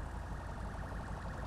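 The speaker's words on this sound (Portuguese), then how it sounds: "tô escutando sirenes" Police sirens wail in GTA V, a steady repeating up-and-down warble that stays loud and constant over a low engine rumble, with no talking.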